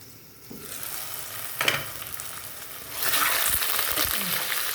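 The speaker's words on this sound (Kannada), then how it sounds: "ಇನ್ನೊಂದು ಸ್ವಲ್ಪ ಬೇಯಲಿ ಈರುಳ್ಳಿ" Small onions frying in a pan for sambar, a soft sizzle that swells louder and brighter partway through, with a couple of clinks and stirring scrapes, no voices.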